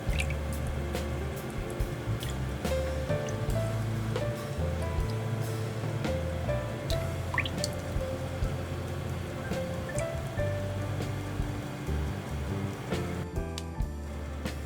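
Milk and cream poured into a pan while making cod roe cream udon: a steady, dense wash of liquid sloshing and spattering that runs unbroken from start to finish at a fairly loud level.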